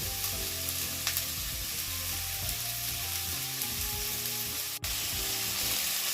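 Bitter gourd frying in a pan, a continuous close sizzle of hot oil with a steady low hum beneath and one sharp click partway through.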